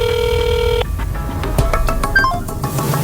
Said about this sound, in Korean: 1339에 전화를 해봤지만 전화는 계속 끊어져 통화도 못했습니다.